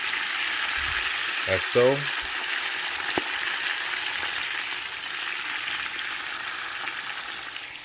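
Collard greens frying in a hot pot give a steady, loud sizzle throughout, with a brief clatter of a utensil near the start and a few quiet spoken words.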